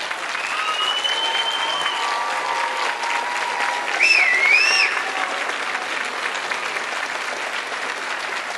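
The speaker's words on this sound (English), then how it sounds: "Please stand and by your applause, let them know just how much you all appreciate their support." A college commencement audience gives sustained, even applause for about nine seconds, with a brief whistle and cheer rising in the middle.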